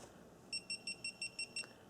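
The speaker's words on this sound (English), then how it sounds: "I just press the button, and then it beeps 7 times" Seven short, high-pitched electronic beeps from a GoPro Hero4 Session powering off, in a steady, evenly spaced run, fairly quiet and close, with no talking.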